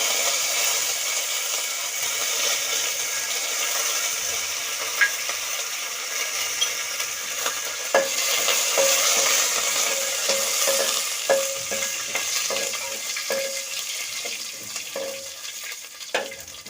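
Mustard seeds, urad dal and curry leaves frying in hot oil for rasam, a steady close sizzle with scattered sharp pops and crackles building toward the end, no talk.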